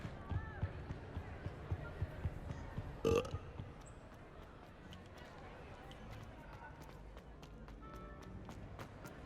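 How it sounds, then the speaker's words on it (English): A character in the Hogwarts Legacy video game burps as a polyjuice potion wears off: one short, loud belch mid-scene, set against murmuring voices and background game sound. "He's actually burping and everything."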